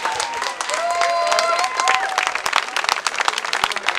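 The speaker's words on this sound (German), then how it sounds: "Riesen Applaus, vielen, vielen Dank." Concert audience at an outdoor music festival clapping enthusiastically, a dense patter of many hands with some cheering, while someone speaks over the applause through the PA.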